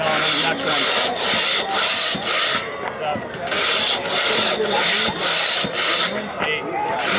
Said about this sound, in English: This is some of the finest sawing I've ever seen.